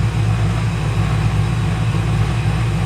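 An LS V8 engine with a newly swapped camshaft idles slightly high in a home garage, a steady, deep, continuous rumble with a faint uneven lope, close and unbroken.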